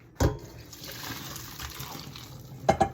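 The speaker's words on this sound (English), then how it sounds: "I'm just pouring it into my colander. And then drain out that water." Pasta water splashes and gurgles as it pours through a colander into a sink, with a thump at the start and clatters near the end.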